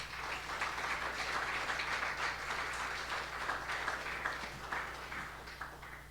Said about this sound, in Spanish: ¿Por qué no le das un aplauso al Señor, hermano?